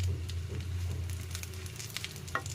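Fish roe sizzles steadily in hot oil in a pan, a close, continuous crackle with faint spatters and one brief clink near the end.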